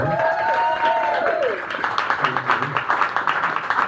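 Audience at a live comedy set giving a round of applause, scattered claps building into sharper, rhythmic clapping after a brief stretch of voice at the start.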